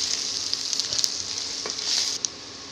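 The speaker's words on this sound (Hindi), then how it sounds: "अब इसे हम 1 मिनट तक इस तरह से भून लेते हैं।" Dry spices with coriander powder frying in a pan for dahi chicken, a steady close sizzle with a few scrapes and stirring clicks, no voices.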